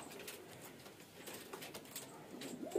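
A fancy male pigeon on a rooftop coos softly nearby, its low, repeated murmuring calls quiet and steady.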